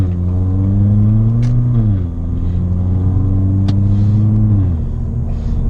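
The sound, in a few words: Ford Fiesta Titanium engine accelerating while driving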